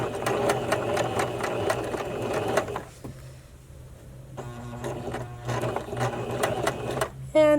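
A sewing machine zigzag-stitching elastic onto a bra, running in a steady, close, buzzing rattle, pausing briefly in the middle, then resuming in short bursts.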